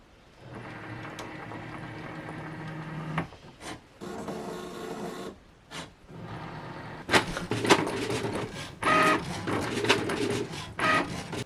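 Cricut machine cutting vinyl on a mat, with whirring carriage movements and rubbing, scraping passes broken by short pauses, growing busier and louder in the later half.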